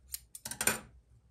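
Scissors snip through crochet yarn in a few quick, close cuts, with sharp crisp blade sounds and then quiet.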